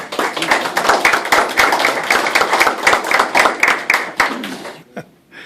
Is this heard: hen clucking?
no